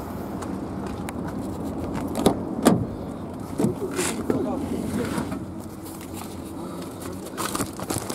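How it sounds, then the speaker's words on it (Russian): Car being locked, with short clicks and scraping mechanical sounds scattered among steady background noise while people talk nearby. "Так, я закрываю машину,"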